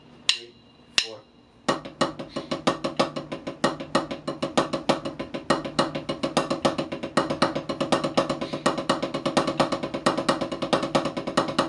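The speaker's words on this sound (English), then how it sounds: "the accent is going to be on the first and the third note of the double paradiddles" Drums playing double paradiddles with accents on the first and third notes, opening with a few spaced count-in clicks and then a dense, even, close stream of sharp strokes continuing to the end.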